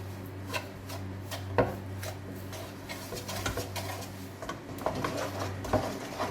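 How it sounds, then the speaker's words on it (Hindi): Milk powder halwa being roasted and stirred in a pan, a steady run of light scraping and tapping strokes at close range over a constant low hum, with a few sharper knocks of the spoon. "अब इसको थोड़ी देर हम भूनेंगे आराम से"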